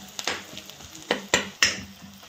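Masala and eggplant for baingan bharta frying in a pan with a soft sizzle under repeated scraping strokes of a spatula and sharp metal clinks, close up and without speech.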